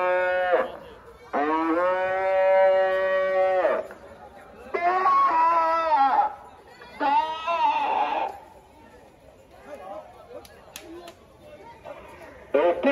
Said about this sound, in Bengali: আকর্ষণীয় গরু ছাগলের বাজার